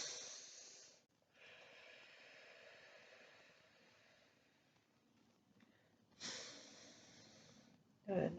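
Slow, deep breaths during a yoga stretch, two long airy inhales or exhales near the start and later, soft and close with quiet breathy noise between.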